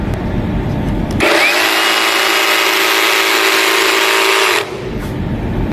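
A DongCheng DCMQ85 cordless jigsaw set to speed 6 starts after a short stretch of background noise. It cuts loudly and steadily for about three and a half seconds with a constant high whine and buzz, then stops abruptly.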